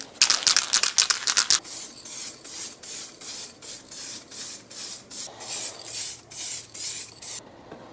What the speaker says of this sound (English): And then for 2 layers of light matte clear coat.